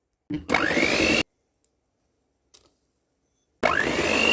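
An electric mixer beats sour cream and butter into a batter for a school-style sour cream cake, running in two loud, steady, close-up whirring bursts separated by a silent gap.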